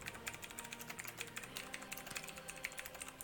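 Rapid, continuous clattering of a computer keyboard, fast irregular keystrokes packed densely across the whole stretch, fairly close and steady in level, with no voices over it.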